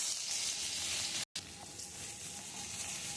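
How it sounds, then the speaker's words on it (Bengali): Ginger paste frying in a pan alongside a fried boal fish head gives a dense, even sizzle close up that continues without pause apart from one brief dropout. "আদাটা একটু লাল লাল করে ভাজা হয়ে গেছে"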